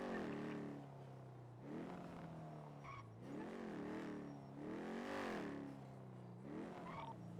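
A V12-engined car in the GTA NoPixel game drives and revs repeatedly, its engine pitch climbing and falling in several loud sweeps as it accelerates and shifts, with brief tyre noise.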